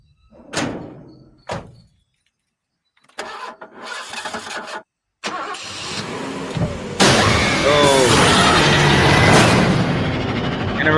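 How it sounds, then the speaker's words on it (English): An old car engine cranks and struggles to start in the Wolf Man trailer, with door thunks and a slam first, then loud sputtering starter whirring and rising engine noise over tense music. "Oh, the old car not starting."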